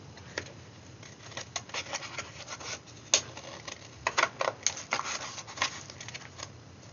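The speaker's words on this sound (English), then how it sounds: "getting my scissors right in to where I want it" Scissors snipping through card to trim a zig zag aperture, a series of quiet close crisp cuts and rustles in an irregular rhythm, heard alone without speech.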